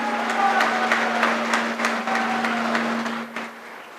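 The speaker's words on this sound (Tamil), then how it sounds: "முதல்ல நீங்கள் உங்களுக்காகவே ஒரு தடவை கைத்தட்டல் கொடுங்க." Audience applause at an anniversary celebration event, a dense, even round of clapping from a crowd that holds steady and then thins out near the end, over a low steady hum.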